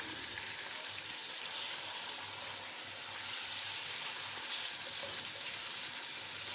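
Chicken pieces browning in a pan for a green chicken karahi make a loud, steady, close frying sizzle with a dense hiss that carries on unbroken throughout.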